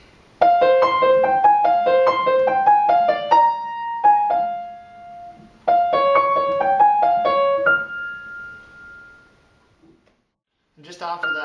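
A piano plays the right-hand melody of a tune: two clear, close phrases of single notes, each ending on a held tone. A silence follows, then a brief burst of noise.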